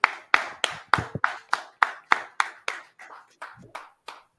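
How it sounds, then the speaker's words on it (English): Rhythmic clapping, about a dozen sharp claps in a steady beat, slightly fading toward the end. "Clap it up."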